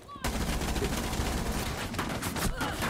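Continuous gunfire in Rainbow Six Siege, rounds fired through a wall at a theme park map, loud and dense throughout, with brief bursts layered over a steady crackle.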